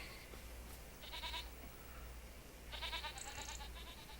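Two short bursts of goat bleating from livestock in the Farming Simulator video game, heard faintly over a steady low background hum.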